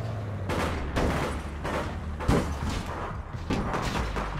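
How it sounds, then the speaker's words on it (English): Sustained gunfire in the online shooter APB Reloaded, with dense repeated bursts of shots, some louder and closer than others, rolling continuously without pause. "The other one is shooting at me."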